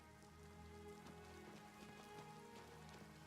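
Rain in Oblivion Remastered patters steadily on surfaces with scattered heavier drops, a soft, even wash that fills the scene without any talk.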